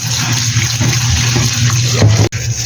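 Steady rush of tap water pouring over squid in a kitchen strainer as it is washed, loud and continuous with no talking, cutting off abruptly near the end.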